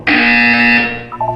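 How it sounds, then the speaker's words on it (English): A loud, steady electronic buzzer from the Portal 2 wellness exercise holds for nearly a second, then trails off into softer, fluttering tones. "You will hear a buzzer. When you hear the buzzer, look down at the floor."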